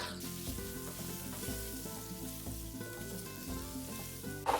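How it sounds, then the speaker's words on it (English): Chouriço sausage frying in the soup pot for caldo verde, a continuous close sizzle and spatter with faint clinks of a utensil, no voices. "Cook the chourico for about 3 to 5 minutes."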